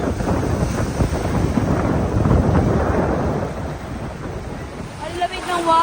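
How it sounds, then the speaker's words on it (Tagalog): Strong ocean waves on a white-sand beach in Sardinia, a loud, continuous rushing surf with heavy wind buffeting the microphone, and a voice briefly heard near the end. "Oh, lakas ng alon."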